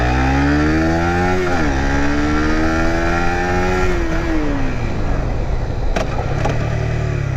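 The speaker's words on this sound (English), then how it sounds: "Yeah, very nice engine brake." Suzuki Gixxer motorcycle engine braking on the road, a loud, close engine whose pitch drops and rises as revs fall under deceleration, with wind noise throughout.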